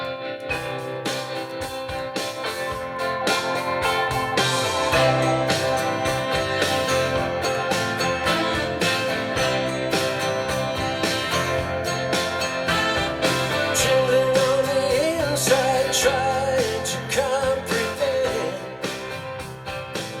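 A fully mixed song plays back continuously, a dense blend of instruments with sustained melodic lines and steady rhythmic hits at even loudness throughout, with no talking over it.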